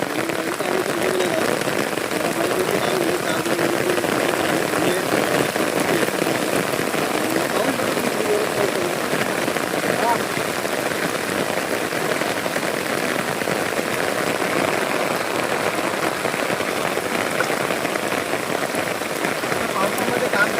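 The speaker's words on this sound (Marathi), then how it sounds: "पावसामध्ये काम करावं लागतं." Steady rain pattering on a paddy field during rice transplanting, a dense continuous hiss of drops that holds evenly throughout with no pauses.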